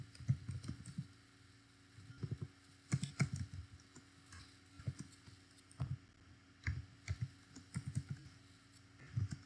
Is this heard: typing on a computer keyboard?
yes